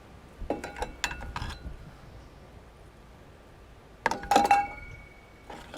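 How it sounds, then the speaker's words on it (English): Wind chimes near a vintage VW bus ring out in two short clusters of bright metallic clinks separated by a quiet gap, close and fairly clear. "Wind chimes, it's windy."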